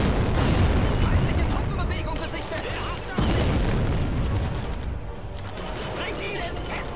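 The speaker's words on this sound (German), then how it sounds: "von unten kommt auch noch ein bisschen Beschuss, deswegen muss ich jetzt ein bisschen aufpassen" Dense shelling and explosions rumble through a Blitzkrieg 2 battle, a continuous loud barrage of booms and crackling impacts with a sharp new blast midway, thick low-end roar throughout.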